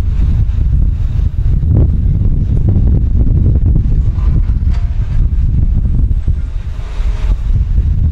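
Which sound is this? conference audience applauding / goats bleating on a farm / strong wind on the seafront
strong wind on the seafront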